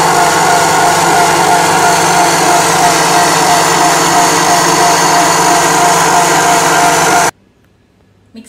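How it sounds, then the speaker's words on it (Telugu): A kitchen mixer grinder whirs steadily at high pitch while blending a sapota milkshake, running loud and constant for about seven seconds before switching off abruptly into near silence. "మిక్సీ పట్టేసుకున్నాం కదండి"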